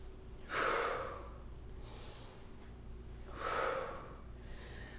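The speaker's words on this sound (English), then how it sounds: "Inhale forward, exhale back." Two deep, breathy inhale-exhale cycles during a kundalini yoga sequence, close and clear, each a broad airy rush with a quiet pause between.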